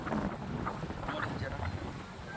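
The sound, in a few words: wind blowing on a mountain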